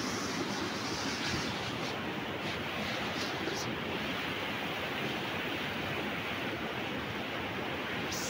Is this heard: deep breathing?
no